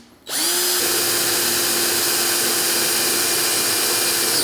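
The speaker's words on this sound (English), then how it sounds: "So let's get the some holes drilled here and we'll get this mounted." A power drill bores holes for mounting a part on a 1973 Cushman Trackster, starting abruptly and running as a steady, loud, close whine with no break.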